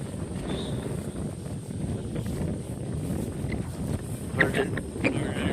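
Strong typhoon wind gusting across an open rice field, a steady broadband roar buffeting the microphone throughout, with a brief brighter rustle and clatter near the end.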